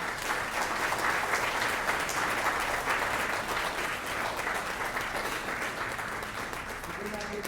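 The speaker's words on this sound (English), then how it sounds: "Let's give a big round of applause to our councilman and our friend, Alan Warrick." Audience at a district State of the District event applauding a councilman, a dense, sustained round of clapping that stays loud and even throughout, with crowd murmur beneath.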